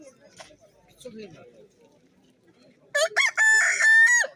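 A rooster crows loudly and close by, a single long call at the end, after faint scattered background sounds, at a poultry and livestock fair.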